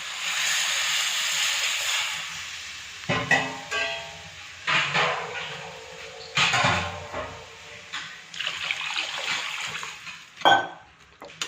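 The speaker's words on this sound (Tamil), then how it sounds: "தண்ணி ஊற்றி நல்லா கொதிக்க வைக்கலாம்." Water poured into a pot of plain sambar made without dal, with asafoetida added, gives hissing splashes and sizzle, broken by lid and pan clatters as it is set to boil over full flame.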